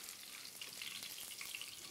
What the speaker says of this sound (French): si ça fait des petits éclats, c'est normal, hein, la gambasse contient beaucoup d'eau, donc on peut avoir des petites éclaboussures